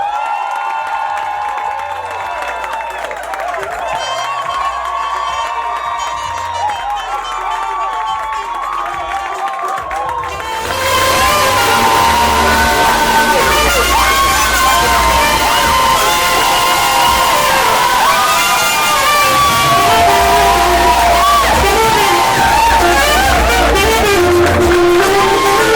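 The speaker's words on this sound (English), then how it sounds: "A warm welcome, an ovation, a screaming ovation for the reason why we are here today" A comedy special audience erupts into loud screaming cheers, whoops and applause for comedian Prince Neche's entrance, starting after a quieter stretch and holding as a dense, sustained roar.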